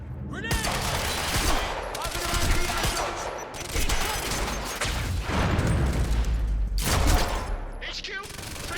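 Gunfire and a grenade in the game Quantum Break, with dense, loud bursts of automatic fire and booms running almost continuously while voices shout in the middle of the battle.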